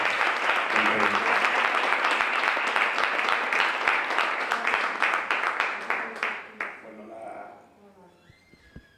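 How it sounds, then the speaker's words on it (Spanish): Audience applause at a poetry festival in Madrid, a dense, sustained wash of clapping that holds steady for several seconds, then thins into scattered individual claps and dies away. "con vuestro aplauso le pido a Perú que nos acompañe aquí en el escenario"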